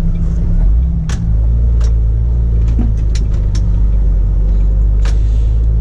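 Steady low engine and road rumble from inside a car on a long road drive, continuous and fairly loud, with a few faint clicks and rattles and no talking.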